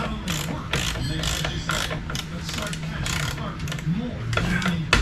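Ratchet working a bolt nut off the steering column intermediate shaft of a 1972 Chevrolet Chevelle, rapid mechanical clicking in short bursts close by, with a voice murmuring partly over it.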